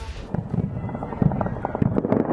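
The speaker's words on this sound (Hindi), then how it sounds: "मशहद शहर में धमाकों की आवाज, लगातार विस्फोट की आवाज आ रही है।" Explosions boom and crackle over Mashhad, Iran, during a missile attack as air defences fire, with a rapid series of sharp bursts that grow denser toward the end.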